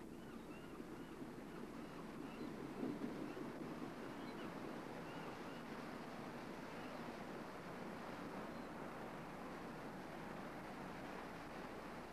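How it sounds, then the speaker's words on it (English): Waves washing onto the Lake Ontario shore near Toronto, a steady soft surf with wind rushing over it, faint and unbroken throughout with no voices. "This body of water is, of course, Lake Ontario"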